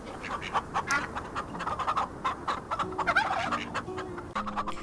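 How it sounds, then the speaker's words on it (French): Turkeys on a farm in the video game Farm Together give repeated clucking, gobbling calls against a busy background of game sounds and music, moderately loud and continuous. "Mais regardez comme ils sont choux, ces petits dindons."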